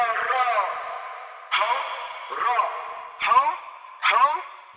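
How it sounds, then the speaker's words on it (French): Vocal phrases drenched in a long atrium-style reverb with spaced delay echoes, five short bursts with trailing tails fading between them. "J'ai changé les réglages de la reverb et je l'ai mise sur atrium, donc c'est une reverb qui est un peu plus longue"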